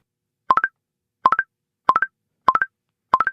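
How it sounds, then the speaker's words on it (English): A mobile phone ringing indoors: five evenly spaced bursts of three rapid rising electronic tones, loud and clean against silence. "Whose phone is that? Who forgot to turn the ringer off?"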